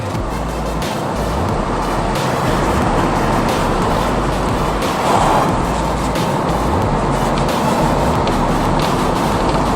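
A warmed-up Peugeot 206 GT is driven along, its engine and road noise forming a steady loud drone with a brief swell midway, heard from inside the moving car.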